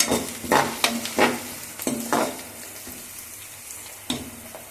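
Sliced onions fry in oil in a pan for an arbi root curry, with a spoon scraping and stirring them. Several sharp, close strokes come in an uneven rhythm over a low, steady sizzle.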